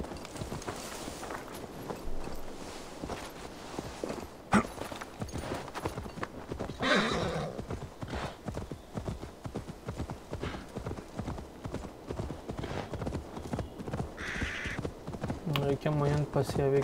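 Horse hooves clip-clop steadily through a gameplay sequence in Assassin's Creed Valhalla, with a couple of whinnies rising over the rhythmic galloping and a voice talking intermittently.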